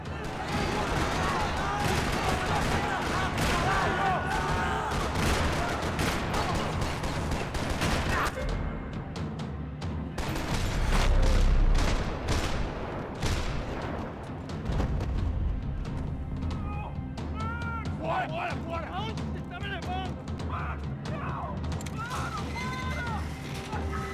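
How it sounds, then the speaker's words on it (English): Gunfire rattles across a parking lot in the video game Max Payne 3, dense bursts and mechanical clatter layered over a game soundtrack, with a heavier thump near the middle and voices speaking at times. "Another parking lot rattling with gunfire."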